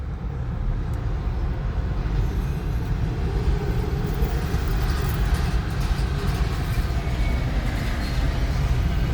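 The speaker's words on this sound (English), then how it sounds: "We're pacing the same train through Normandy now." A train rolling along a railroad track through Normandy, Tennessee, heard from a moving car pacing it: a steady, loud low rumble of wheels and engine mixed with road noise, continuous and without talk.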